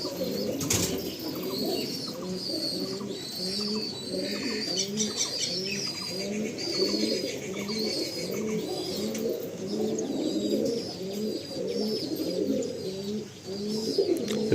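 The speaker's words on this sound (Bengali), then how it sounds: "আসুন ছেড়ে দে একশো সাদা পায়রা" Around a hundred white pigeons in a loft coo in a steady, overlapping chorus close by, with occasional wing flaps and chirps mixed in.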